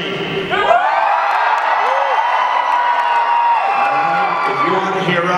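Comic-con crowd at a panel screaming, whooping and cheering loudly and continuously, many voices together filling the hall, with shrill individual yells poking out above the roar.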